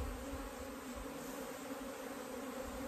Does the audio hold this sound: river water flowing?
no